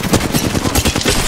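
Rapid automatic gunfire in the Apex Legends video game, a loud, close burst of evenly spaced shots rattling continuously for just over a second.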